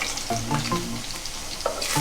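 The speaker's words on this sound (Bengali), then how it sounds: "আলু ভাজাটা হয়ে এসছে" Potatoes frying in a pan of oil for mutton kosha, a steady sizzle with a few stirring scrapes and clinks, close and moderately loud with no talk.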